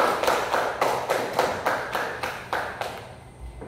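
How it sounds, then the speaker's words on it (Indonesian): A class of children claps in a steady rhythm, about eight evenly spaced group claps in a row, close and fairly loud, ending in a brief quieter pause. "Beri tepuk tangan."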